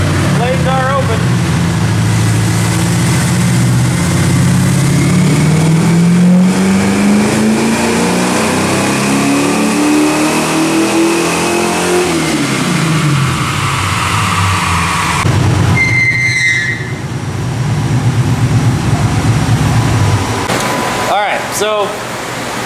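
A 1979 AMC AMX with an AMC 304 V8 and headers revs on a dyno, the engine note climbing steadily under loud roaring load, then dropping off, followed by sharp clanks and a few clicks near the end.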